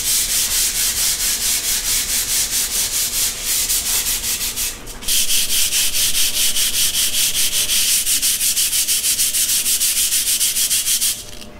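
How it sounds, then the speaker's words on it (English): Sandpaper rubs by hand over a concrete countertop in fast, even back-and-forth strokes, loud and close with a steady rhythmic hiss and one brief pause midway. "Very light pressure, let the sandpaper do the work."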